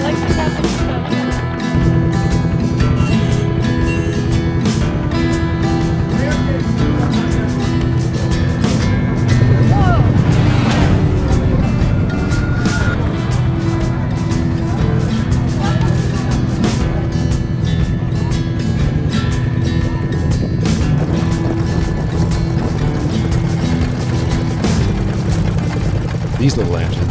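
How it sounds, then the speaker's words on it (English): Small klotok boat engines from Indonesia, hot-rod style, run loud and steady with a harsh mechanical rumble that goes on throughout, and voices talk now and then over the noise. "These little engines seem like they could really pack a punch."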